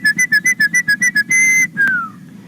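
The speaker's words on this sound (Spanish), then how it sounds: "incluso los niños saben que hay que silbar para atraer al aire," A person whistling to call the wind: about nine short, sharp, evenly spaced whistle blasts, then a longer held note and a final tone that slides downward, loud and close with no talk.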